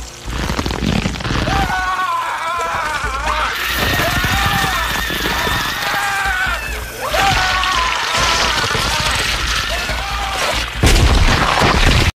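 Dramatic soundtrack from the film Blade with booming blasts and rumbling bursts over swelling music, one heavy boom near the end as a vampir explodes.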